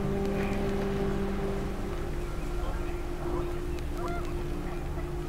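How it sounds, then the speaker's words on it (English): Panicked geese honk in the game What Remains of Edith Finch, with overlapping calls under steady wind noise and a constant low hum throughout. "The wind picked up and panicked geese appeared and quickly went."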